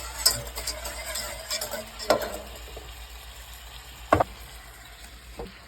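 Butter and garlic sizzle softly in a pan for shrimp scampi, a steady low frying hiss broken by a few scattered clicks and taps of a utensil.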